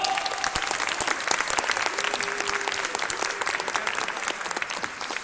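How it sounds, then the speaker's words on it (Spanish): An audience at a science show claps loudly and steadily throughout, a dense wash of applause with a voice faintly heard beneath it. "Por favor, un fuerte aplauso para Dragon Ball."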